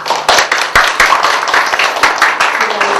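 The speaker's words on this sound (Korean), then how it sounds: "모두 박수로 맞이해 주시죠." Audience at a Korean university lecture event claps to welcome a vice-president to the podium, a dense run of close, sharp hand claps filling the whole stretch at steady loudness.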